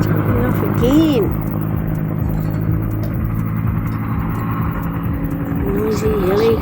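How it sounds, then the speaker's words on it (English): Steady loud engine drone and rotor hum of a nearby helicopter taking off in New Zealand between Waitomo and Mokau, continuous throughout, with voices talking over it. "Noisy helicopter."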